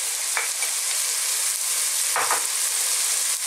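Mixed seafood for a misua dish hits a hot pan with a steady, bright sizzle, plus a couple of short clatters as pieces are dropped and stirred. No voices.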